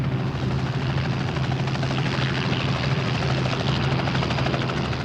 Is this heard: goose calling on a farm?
no